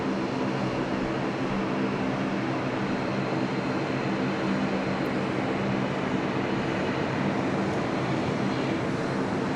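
A Boeing 737-800 airliner on a night flight from Sydney to Melbourne, heard as a steady, broad jet engine roar that holds constant and fairly loud throughout, with no voices over it.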